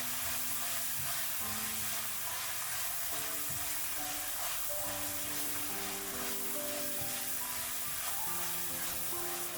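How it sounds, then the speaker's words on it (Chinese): Diced pork stir-fries in a wok with scallion, ginger and garlic, giving a steady loud sizzle and hiss that runs through the whole stretch, with no talking over it. "继续炒出香味"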